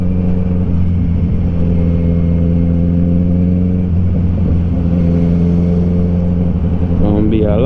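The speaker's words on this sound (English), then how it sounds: "because there's so much traffic." Road traffic on an evening beach road, heard from a 2020 Kawasaki Z900 motorcycle, makes a loud, steady low engine drone that rises sharply in pitch at the very end.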